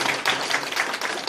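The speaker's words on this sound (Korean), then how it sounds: "큰 박수 다시 한번" An audience claps after a lecture, with many hands giving brisk, even applause that is fairly close and continuous for a brief moment.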